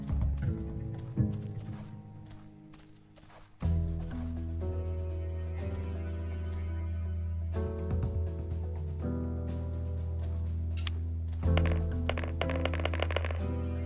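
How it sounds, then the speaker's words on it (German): A coin thrown and dropping in the stealth action video game UnMetal, heard as a bright metallic clink and jingle near the end over a dense, loud game music and effects bed. "Oh, die Münze wollte ich nicht werfen."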